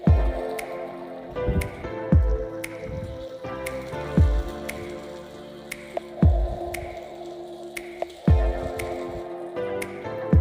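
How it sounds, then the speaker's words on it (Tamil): Beaten egg poured into a hot pan for a roadside-style bread omelette, with close wet splashes and squishy plops over a steady sizzle, and a few louder drops near the start and end. "இப்போ நம்ம கலந்து வச்சுருக்கிற முட்டையை இதில் சேர்க்க போகிறோங்க."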